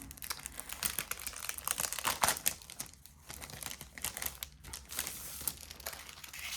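Packaging of a small diamond painting accessory being opened at close range: faint crinkling and crackling plastic or paper with irregular taps and rustles, no talking.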